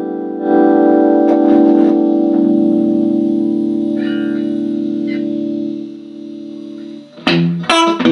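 A Roland Jazz Chorus solid-state guitar amplifier, up for quick repair triage, rings out a sustained chord that fades slowly, followed by a few sharp plucked notes near the end.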